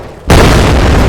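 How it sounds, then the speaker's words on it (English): A sudden loud explosion in an Unreal Engine 5 demo bursts in after a quiet moment and sustains as a heavy, roaring boom. "The sound of these explosions, they are pretty loud"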